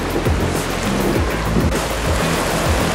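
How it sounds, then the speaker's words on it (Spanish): Small, gentle sea waves wash against a stony beach at Punta Cerritos in Mazatlán, a steady surf hiss broken by soft, low thuds as water breaks on the rocks. "Llega tantito oleaje, pero es mínimo."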